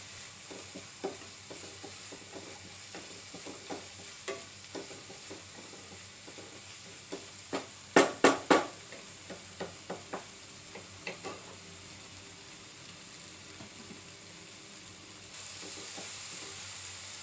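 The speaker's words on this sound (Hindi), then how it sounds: "अब हम ये वेजिटेबल्स को पकने देंगे।" Chopped vegetables for rawa upma cook in a pan over medium heat, giving a steady close sizzle marked by regular stirring clicks and a brief cluster of louder scrapes midway, with no talking.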